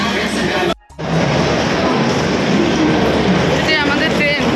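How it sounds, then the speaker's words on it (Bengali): A passenger train at a station, its steady rumble and rolling noise filling the scene continuously at close range, with a brief dropout near the start and faint squealing tones toward the end; people talk over it. "এটাই আমাদের ট্রেন"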